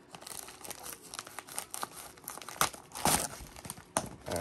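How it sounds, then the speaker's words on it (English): Plastic bubble wrap packaging around a Beyblade Burst TT Surge top and string launcher being pulled and unwrapped, with close, irregular crinkling and crackling bursts that peak in a loud flurry midway. "we got bubble wrap in here"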